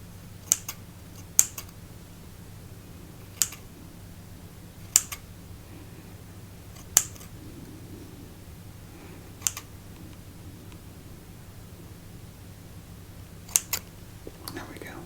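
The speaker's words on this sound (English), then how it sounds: "For those of you who like scissor sounds." Scissors snip through MRE packaging on a US humanitarian aid ration, sharp isolated clicks and cuts spaced a few seconds apart over a quiet background hum, close up with no talk.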